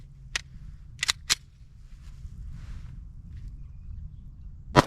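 A Glock 19X pistol fires at a target 15 yards away, with a handful of sharp, separate gunshots spaced irregularly and one last shot after a pause, each crack loud and close against a quiet background.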